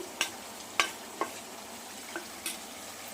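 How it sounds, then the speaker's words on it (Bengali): Country chicken curry with potatoes and shahi garam masala sautés in a pan under a soft, constant sizzle, marked by a few sharp spoon taps and scrapes spaced about a second apart. "শাহি গরম মশলা দিয়ে আমি কষাতে হবে ভালো করে"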